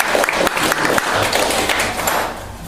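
Audience applause at a ufology dinner gathering in Metz, welcoming a speaker, made of fairly close individual claps in a steady crackling flurry from a modest crowd.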